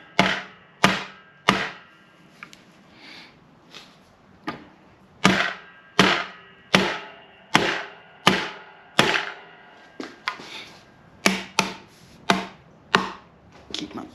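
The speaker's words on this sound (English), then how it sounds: "I'm going to use this rubber hammer so I can hammer on the top part of it" A rubber hammer tapping a motorcycle fork seal down over a pipe on a Kawasaki Ninja, sharp hollow knocks in uneven bursts, sometimes quick pairs and triples, separated by short quiet gaps.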